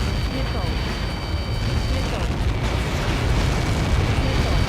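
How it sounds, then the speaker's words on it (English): Huge impact explosion in the video game Ace Combat 7, a dense sustained rumbling roar that fills the whole stretch at high level, with game voices talking over it. "How many got caught in that explosion?"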